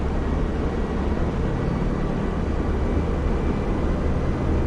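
A P-47 D30 Thunderbolt's engine in DCS roars as a loud, steady, jet-like drone that holds without a break.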